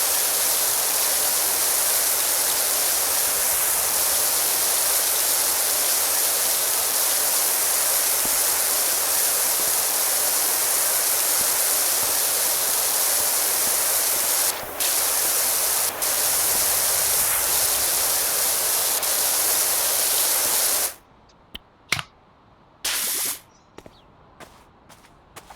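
A steady, loud hiss of spraying in a cleaning video game, running almost without a break for about twenty seconds before cutting off into short, choppy bursts with brief gaps.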